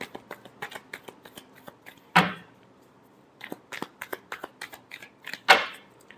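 Tarot cards being shuffled by hand, soft papery riffles and taps with two louder, longer card-riffle bursts, close and fairly quiet, no talking.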